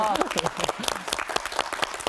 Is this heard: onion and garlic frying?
no